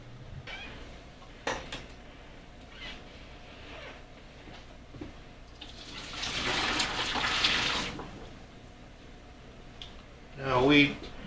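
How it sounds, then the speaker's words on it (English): Water is poured out of a cooking pot used to boil eggplant, a rushing splash lasting a couple of seconds among quieter kitchen clatter, then a short final gurgle. "Now we dump the water out, but we're going to use the same pot."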